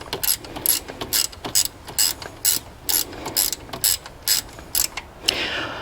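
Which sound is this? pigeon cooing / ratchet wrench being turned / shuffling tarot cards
ratchet wrench being turned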